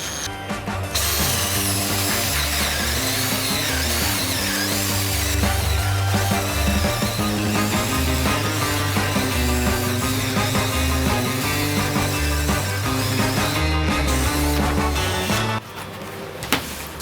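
A budget Vitals cordless screwdriver running at second speed under heavy load, a loud, steady, strained motor drone with a ratcheting buzz that holds for about fifteen seconds, then drops and stops near the end.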